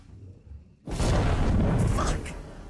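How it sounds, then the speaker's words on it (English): A loud explosion erupts in Alien: Isolation after a quiet moment, a sudden broad blast that keeps roaring and rumbling for nearly two seconds before easing slightly. "Let's cause the explosion"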